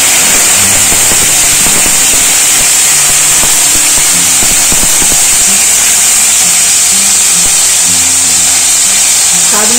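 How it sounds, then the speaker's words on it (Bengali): Grated tomato goes into fried garam masala and sizzles loudly, a steady, dense hiss that fills the whole stretch, with faint voice-like tones underneath. "এই গরম মশলাগুলো সব ভাজা হয়ে গেছে। এর মধ্যে গ্রেট করা টমেটোটা দিয়ে দেব।"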